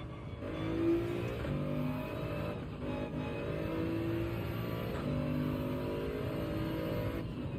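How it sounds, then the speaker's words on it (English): A Gran Turismo 7 race car's engine hums and revs steadily during burnouts to heat the tires, a sustained droning note with slight rises in pitch and no speech. "let's do some burnouts, right? Right, let's get some extra heat in the tires."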